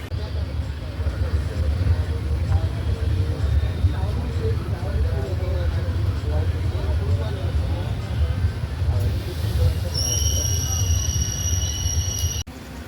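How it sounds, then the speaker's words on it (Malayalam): A train pulling into the platform at Varkala railway station, a continuous low rumble of wheels and engine throughout, with a high whine or squeal joining near the end. "വർക്കല പ്ലാറ്റ്ഫോമിലോട്ട് ഇങ്ങനെ ട്രെയിൻ എൻ്റർ ചെയ്തുകൊണ്ടിരിക്കുകയാണ്."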